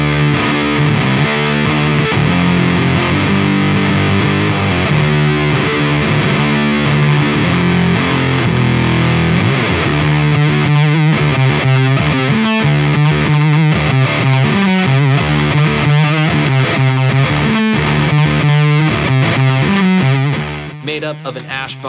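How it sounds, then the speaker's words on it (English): Heavily distorted Bootlegger Rye electric guitar, ash body and set maple neck, plays loud, chugging riffs and sustained chords, getting denser and more aggressive partway through, with no voices. "this is the Rye, a very classy looking guitar that sounds as mean as it looks"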